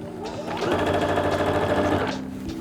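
A sewing machine stitches dungarees with contrast thread, taken slowly stitch by stitch, giving a steady, close, rapid mechanical whir that runs for about a second and a half before easing off, with no talking.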